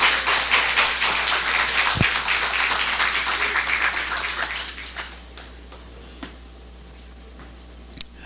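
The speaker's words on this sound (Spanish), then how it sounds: "Eso se merece un aplauso." Congregation applauding during a Spanish-language church sermon, sustained loud clapping from many hands that gradually fades to a few scattered claps and then near silence.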